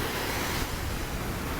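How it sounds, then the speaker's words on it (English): Ocean surf on a Hawaii shore washes in a steady, close, full rushing roar with wind noise and no voices. "listening to the waves, listening to the water."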